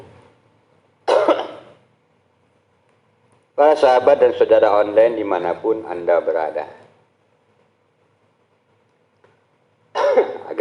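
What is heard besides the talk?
coughing and throat clearing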